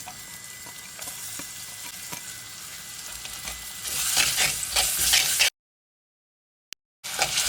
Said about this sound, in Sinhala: මේ ටික ඩිංගක් අපි ගින්දර වැඩි කරලා හොඳට අර බ්‍රවුන් කලර් වෙනකල් බැදගන්න.